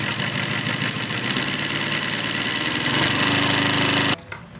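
An AtlasUSA AT2153 zig zag sewing machine stitching a letter onto fabric, its motor and needle mechanism whirring in a steady rapid chatter before stopping abruptly near the end.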